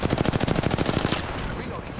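Rapid automatic gunfire from the video game Apex Legends, a dense, loud burst of evenly spaced shots that stops abruptly, leaving a lingering rumble and hiss.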